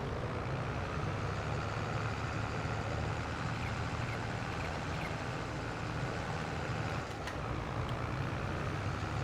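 Steady, continuous drone of a tractor engine in a farming video game, a low rumbling hum with little variation, running alone at moderate loudness.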